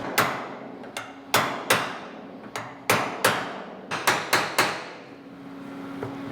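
A hammer knocks down high spots on a welded car roof panel, about a dozen sharp metallic strikes in uneven bursts, close and ringing, with no talking.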